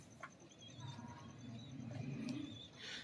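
A show pigeon coos in low, soft, repeated murmurs close by, with a faint chirp here and there and a little background noise from the room.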